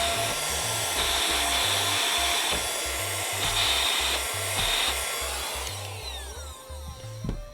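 A small handheld electronics-cleaning vacuum whirs steadily up close as it tries to lift a PS2 power supply, its motor tone pulsing and wavering with strain before the whine drops off near the end.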